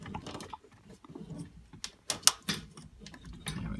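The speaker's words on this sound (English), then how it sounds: "There we go, nice click." Several sharp plastic clicks and rattles come from a fuel line connector being worked and snapped into place on a Ford Mustang during fuel pump replacement, close up and fairly faint, with one distinct louder click in the middle.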